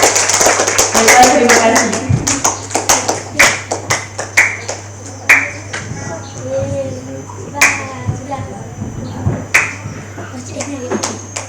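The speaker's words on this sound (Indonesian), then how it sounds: "Tepuk tangan dulu untuk kita dulu." Brief applause and clapping at a school Islamic student group's visit to a foundation, scattered sharp claps rising and fading over a steady hum, with a speaker talking over and after it.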